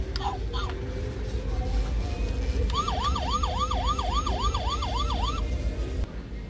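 Battery-powered toy fire engine over two feet long, sounding an electronic wailing siren that sweeps up and down repeatedly for a few seconds over steady store background noise, then cuts off.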